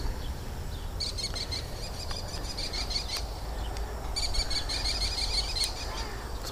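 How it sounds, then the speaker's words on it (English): Noisy birds chirp outdoors in repeated bright bursts, quick trilled calls coming in two clusters over a steady background hiss, with no talking. "What's with these noisy birds?"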